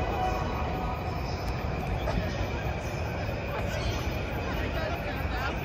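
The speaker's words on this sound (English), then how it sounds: "This is the meeting point. Train." A train passes at a station in Tokyo's business district with a steady, loud rumble and faint wheel squeal, and a crowd murmurs in the background throughout.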